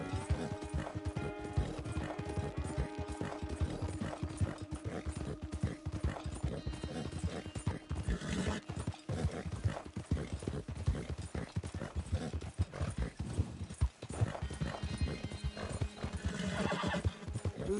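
A filly walks with steady, rhythmic hoof clip-clops close by, with occasional neighs and whinnies and a person talking softly over the sound.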